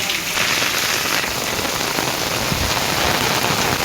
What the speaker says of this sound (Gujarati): ધોધમાર વરસાદ ચાલુ છે